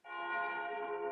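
A church bell from the 1976 film The Omen rings once, a sustained resonant toll with steady ringing overtones, heard alone and fairly quiet.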